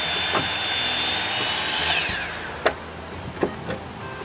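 A power tool cuts brace mortises in a timber roof truss for a new workshop, a steady loud buzzing grind followed by a few scattered knocks and thumps near the end.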